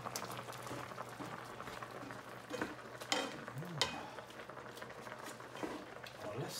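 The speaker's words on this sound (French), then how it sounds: "On laisse ça mijoter tranquillement." Tomato sauce with sausage simmers in a pan, giving a soft, low bubbling with occasional pops and faint stirring, quiet and close throughout.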